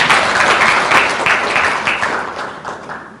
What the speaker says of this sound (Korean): 조정식 의원님께 다시 한번 큰 박수 부탁드리겠습니다